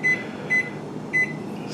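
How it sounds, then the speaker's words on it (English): A microwave oven runs with a Mexican potato inside, giving a steady low hum broken by three short, high electronic beeps. "we're going to microwave it for 3 minutes"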